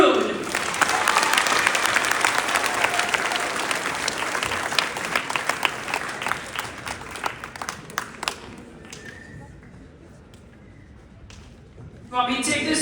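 Sustained clapping and applause from a school audience at a peer awards ceremony honoring a fourth grader, loud and steady before fading, then rising again briefly at the end.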